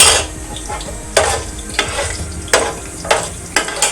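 Whole cloves and black peppercorns frying in a pot for mutton pulao, a continuous sizzle punctuated by several sharp stirring clinks of a spoon against metal at irregular intervals, no voices.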